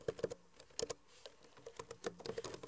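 Keys clatter on a computer keyboard as a command is typed, a quick irregular run of light clicks and taps close by and fairly quiet, with no speech.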